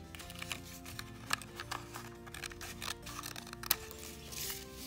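Scissors cut up the middle of a folded paper loom with quick crisp snips and a soft rustle of paper, close and clear, with no speech over them.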